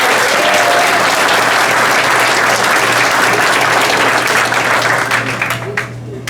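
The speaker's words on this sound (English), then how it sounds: "Let's give these guys one more round of applause." An audience at a football awards ceremony applauds steadily, loud and dense throughout, tapering off slightly at the end.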